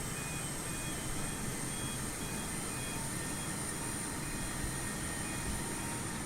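An airliner taxis past in Microsoft Flight Simulator on the Xbox Series S, heard as a steady, broadband jet engine roar with a high whine that stays constant and fairly distant throughout, with no one talking.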